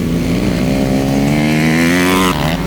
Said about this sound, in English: Vixton from Zimbabwe overtaking Mburu on the inside.